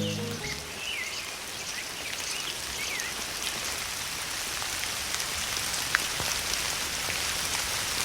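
Steady rain falls on surfaces outdoors in the Konkan, a soft, even patter throughout, with faint bird calls in the distance.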